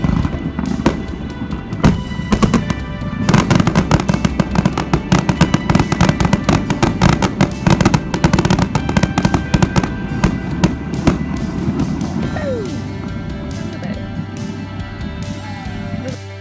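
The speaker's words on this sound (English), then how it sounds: "we were welcomed by a fireworks show later that night" Fireworks show at night over a marina, a dense, continuous barrage of booms and crackling bursts, loud and sustained with rapid overlapping pops throughout.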